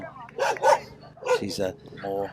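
Small dog barking near scaffolding at a cricket ground in Prague, a few close, high-pitched yaps and yips in short bursts, with whimpering between them.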